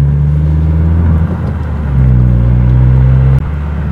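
A Honda Civic Type R FK7 hatchback driving a winding mountain pass, loud in-cabin engine drone that eases off, then swells again as revs climb, before cutting sharply near the end.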